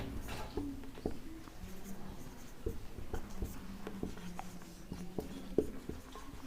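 Chalk or marker scratching and tapping across a board during a maths lesson on statistics, a steady run of short strokes and taps heard close, with no speech.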